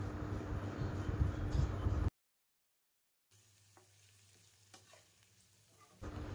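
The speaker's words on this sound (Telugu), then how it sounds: "ఈ ఆనియన్స్ని బాగా మిక్స్ అయ్యేలా కలుపుకొని బాగా ఫ్రై చేసుకోవాలి." Onions with salt and turmeric fry in a pan for tomato chutney, a dense close-up sizzle with stirring that cuts to near silence, returns as a faint low hiss with light scrapes, then comes back loud.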